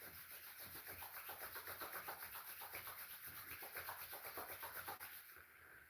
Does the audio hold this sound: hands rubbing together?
yes